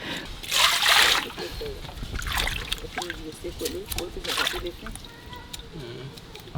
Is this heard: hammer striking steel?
no